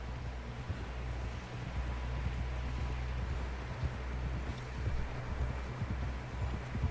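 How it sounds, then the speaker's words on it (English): Horse hooves clip-clopping at a steady walking pace in Red Dead Redemption 2, a dense rhythmic patter over wind and a low droning ambience, continuous and moderately close. "Someone help John down off this horse."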